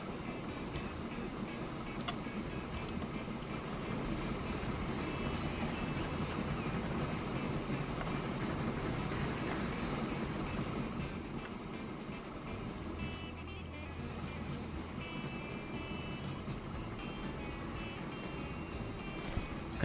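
A train runs in the Transport Fever game, a steady broadband rumble of engine and rolling noise that holds evenly and fairly loud throughout, with a low hum appearing briefly near the end.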